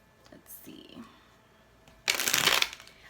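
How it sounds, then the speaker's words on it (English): A tarot deck is shuffled once in a quick, loud, close riffle lasting about half a second, after a few faint handling rustles and soft movement sounds. "I will shuffle one more time."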